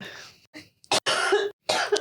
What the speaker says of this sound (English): I'm going to cough first.